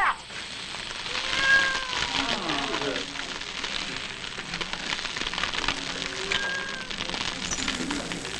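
A cat meows several times amid a steady rain-like hiss and background noise, the calls rising and falling in pitch.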